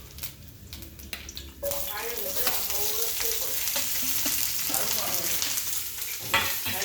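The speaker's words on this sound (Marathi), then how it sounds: "कढईमध्ये तेल तापलं हो आणि त्यात टाक गोलिंबाचा पाला टाक" A loud, steady sizzle of curry leaves frying in hot oil in a kadhai starts abruptly and continues throughout, with stirring scrapes and a voice talking over it.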